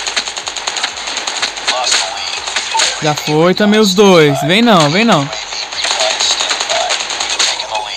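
Rapid bursts of AK47 automatic gunfire in the mobile shooter Call of Duty Mobile, loud close rattling volleys repeating throughout, with someone speaking excitedly over the shooting.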